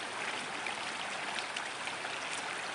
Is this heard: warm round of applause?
no